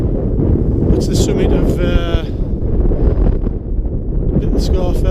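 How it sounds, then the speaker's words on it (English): Strong wind buffets the microphone in a constant heavy rumble near the summit of Great Sca Fell in winter, while someone speaks over it. "it's just very windy"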